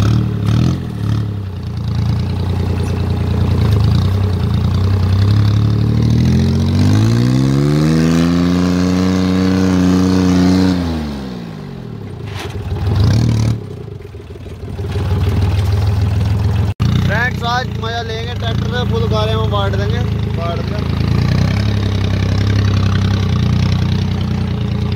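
A tractor engine fitted with a changed silencer exhaust runs loudly and close, idling with a throaty rumble, then revving up and dropping back before settling, and someone talks over it.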